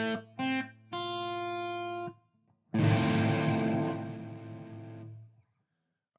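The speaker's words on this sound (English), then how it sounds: "let's take this distortion off." Distorted electronic music tones from an effects-laden track, sounding as sustained buzzy notes, a few short stabs then a long note and a dense, gritty chord, loud and unaccompanied by talk.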